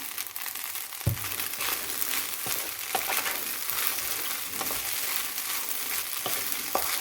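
Onions sautéing in a pan for string hopper kothu give a steady, close sizzle and frying crackle, with occasional scraping stir strokes and soft taps throughout.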